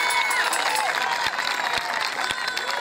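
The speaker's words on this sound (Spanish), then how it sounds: "fuerte el aplauso para ellos" Audience applause at a children's cueca dance award ceremony during a Chilean national festival, with dense outdoor clapping and crowd noise, a few sharp claps standing out and some whistle-like tones over the top.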